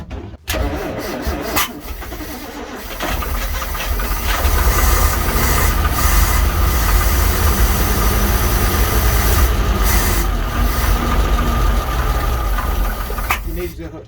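A big-block 345 engine in a barn-find Leyland COE truck runs loud and steady after a brief start, a dense low rumble that holds throughout with people talking over it.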